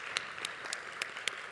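A conference audience applauds a panel at a high-level plenary event, with a fairly faint, steady patter of hand claps and a few sharper individual claps.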